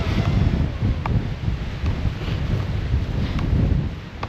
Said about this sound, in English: Biggest gust I've gotten is like 29.